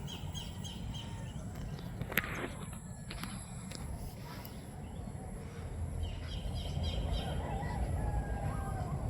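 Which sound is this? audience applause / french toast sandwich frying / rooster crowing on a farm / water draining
rooster crowing on a farm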